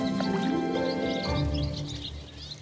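A flock of migrating sparrows chirps and twitters steadily at a moderate distance over a constant low background hum, with no voices present.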